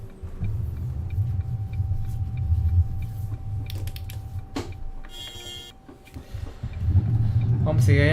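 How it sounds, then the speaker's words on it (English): An articulated bendy bus climbs a steep hill in the OMSI bus simulator game, its engine a steady low rumble that swells toward the end, with someone talking over it. "we'll get to hear this Bendy climb up the steep hills of Cotterell"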